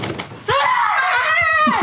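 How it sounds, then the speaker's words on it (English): A girl lets out a loud, sustained scream of fright lasting over a second, rising sharply and holding high and shrill near the listener, with a short babble of voices just before it. "Yeah, that was a good scream."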